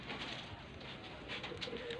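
Soft, low cooing of pigeons, murmuring repeatedly against a dull background hum, fairly quiet and close.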